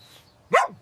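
A dog gives a single short, sharp bark, close and loud against a quiet background.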